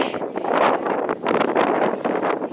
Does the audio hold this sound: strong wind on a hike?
yes